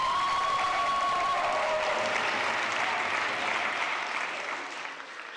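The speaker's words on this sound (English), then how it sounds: "let's give Jamie a final round of applause" An audience applauds at a school senior project presentation, a dense sustained clapping that holds strongly and then thins out near the end.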